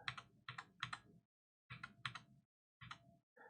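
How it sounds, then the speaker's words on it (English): Close, crisp typing on a computer keyboard in quick bursts of clattering keystrokes separated by short pauses, with a single keypress at the very end. "I'm not used to this keyboard."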